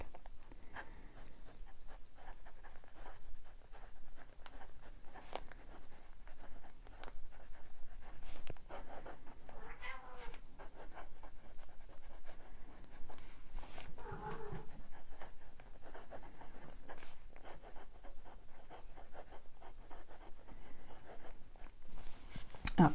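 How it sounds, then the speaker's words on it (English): A fine steel nib on a Tibaldi Bononia fountain pen, inked with Pilot Iroshizuku Tsukiyo, scribbles across Tomoe River paper, making a steady close scratching with short strokes and brief pauses throughout. "I'm just gonna scribble for a second because I have had this uncapped for a while"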